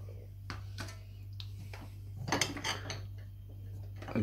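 Clean pots and dishes from a Bomann tabletop dishwasher are picked up and set down, giving a series of close clinks and clatters of cookware and cutlery against a low steady hum.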